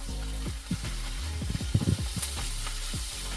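Green chillies fry in oil in a pan on medium flame for tomato roti chutney, a steady sizzle with a few stirring scrapes of a spatula, fairly close and without talk.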